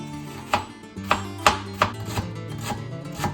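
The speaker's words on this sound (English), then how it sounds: "I have some shallots here that I'm going to very thinly slice." Knife thinly slicing shallots on a board, a series of sharp, separate chops with a few quieter strokes between them, close and distinct over a low steady hum.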